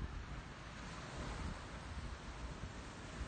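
Ocean waves washing onto a beach on Boston's North Shore on a summer morning, a continuous low rumbling surf with wind buffeting the microphone, steady and fairly faint with no voices.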